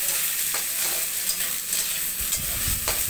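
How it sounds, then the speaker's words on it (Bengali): Chopped onions fry in hot oil for a fish gravy, giving a steady, close sizzle that crackles throughout. Soft stirring scrapes and a few low knocks from the pan sit under the sizzle, and there is no talking. "পেঁয়াজগুলোকে একটু লাল করে ভেজে নেব।"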